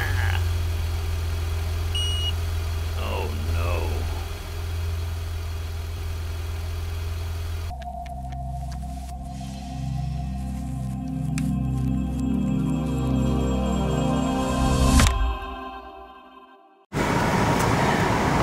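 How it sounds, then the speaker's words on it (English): Blower motor of a 2017 Kia Niro's climate system stuck running, a steady close whir and rush of air inside the cabin over a low hum, ending with a brief cutout and restart. "I'm listening to this blower motor go"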